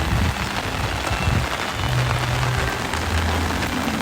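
Heavy, steady rain pours down at Dollywood theme park during a hurricane, a dense continuous hiss of drops hitting surfaces all around, with no voices.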